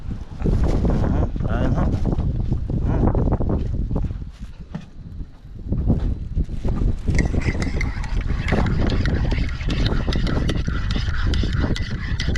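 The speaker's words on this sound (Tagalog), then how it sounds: "Mahangin ho, mga kabisig." Blustery wind buffets the microphone in heavy low rumbles while making crab traps, easing briefly midway before gusting again, with people talking intermittently over it.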